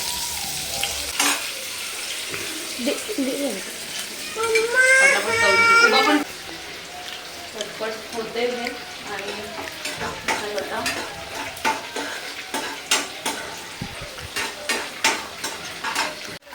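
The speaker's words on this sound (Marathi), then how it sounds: "लसूण आहे ना त्याला फोडणी देते" Garlic, green chili and white onion tempering in hot oil, a close, bright crackle and hiss with clinking stirring strokes against the pan, while someone talks over it.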